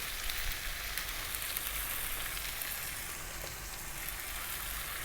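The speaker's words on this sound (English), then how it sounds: "we're going to stir fry this around in the pan for 4 to 5 minutes" Chicken strips seasoned with salt sizzle steadily in a hot pan while being stir fried, a constant crackling hiss at moderate volume with no talk.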